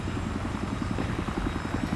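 A scout helicopter in Battlefield 3 flying with a steady, loud rotor chop, rapid even beats over a constant engine drone throughout.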